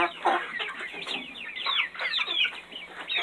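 Chickens cluck and chatter continuously in a crowded coop, many birds close together making overlapping calls with no pauses.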